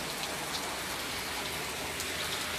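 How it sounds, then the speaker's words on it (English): Light rain falls steadily on a city street on a rainy day, a soft, even hiss of drops with faint patters and no voices, constant in level throughout. "Well, at least it ain't no heavy rain."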